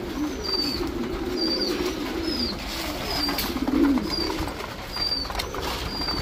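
King and Maltese pigeons, black and white, coo softly while feeding at a pigeon farm, low repeated coos over a steady background murmur, with a few faint higher chirps scattered through.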